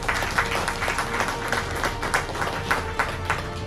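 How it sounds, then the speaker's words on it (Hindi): Audience applause for a motivational speaker, a short burst of dense, even clapping from a crowd that holds steady throughout. "एक बार जोरदार ताली हो गया सर के लिए।"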